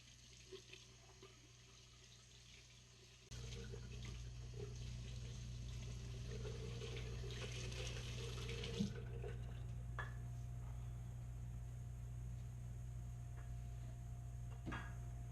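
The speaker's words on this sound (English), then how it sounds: "let me rinse off" Tap water runs steadily for rinsing after a straight-razor shave. A constant close rush of flow switches on and carries on with slight changes and a few faint clinks.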